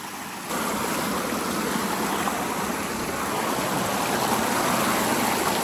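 A cold river's rushing water flows continuously and loudly close by, a dense broadband wash that starts abruptly and holds steady without any talking.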